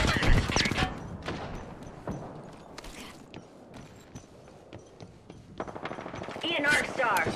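Gunfire in the video game Apex Legends: rapid bursts of shots and sharp impacts come and go amid game effects, mixed with voices talking over the action.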